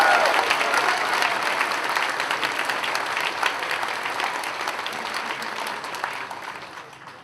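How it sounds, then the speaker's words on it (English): A crowd applauds the cocktail competition winners at a festival opening ceremony, a loud, dense roar of clapping that starts at full strength and slowly tapers off, with a voice briefly audible at the start. "round of applause to our cocktail winners"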